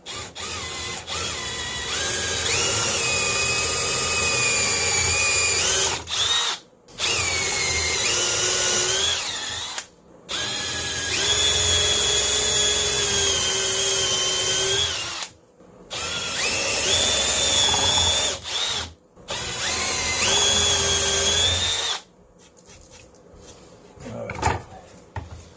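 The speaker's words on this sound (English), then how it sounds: "Now we just got to finish drilling the holes" Power drill boring dowel holes into wood through a template, whining in five sustained bursts of several seconds each, separated by short pauses, loud and close with no talking.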